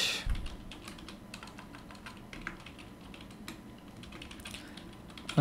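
Rapid, fairly quiet keystrokes on a computer keyboard while writing NestJS code for a Todo REST API, a steady stream of soft clicks running continuously for several seconds with no speech.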